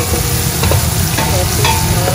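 Spring onions stirred in a hot frying pan give a loud, close, continuous sizzle with rhythmic scraping strokes; no one speaks.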